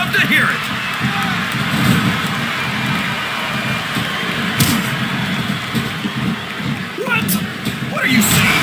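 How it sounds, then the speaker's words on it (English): Arena crowd noise from WWE SmackDown vs Raw 2007, a steady dense roar of spectators filling the whole stretch with a few brief louder swells and whistles near the end, while commentators talk over it. "This capacity crowd is making their opinions known tonight."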